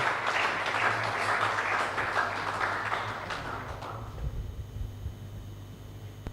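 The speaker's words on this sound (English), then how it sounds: "a better round of applause" Workshop participants give a round of applause for the commissioner, a fairly soft, steady clapping that tapers off after about four seconds into room hum and quiet.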